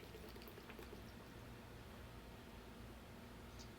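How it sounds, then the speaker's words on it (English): A steady stream of high-proof alcohol pouring continuously into a jar, a soft broadband rush with a low gurgling undertone, close by and unbroken. "And you can see how high I'm pouring it up."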